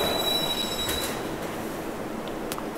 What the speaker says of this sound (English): So then, Daniel gets on the subway.